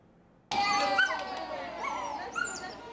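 Dogs riding on their owners' laps aboard a Taipei Metro train, giving repeated whimpers and yips amid a busy carriage, with voices mingling in the background.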